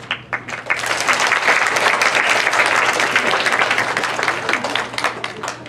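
A school audience at a fifth-grade fine arts demonstration breaks into applause, crisp clapping from many hands that starts sparse, quickly builds into a full, lively patter and holds steady for several seconds under a faint low hum.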